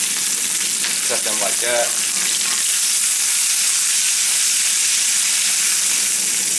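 Beef, green onions and green beans stir-frying in a cast iron wok, a loud, close, continuous hissing sizzle that holds steady throughout, with someone speaking briefly near the start.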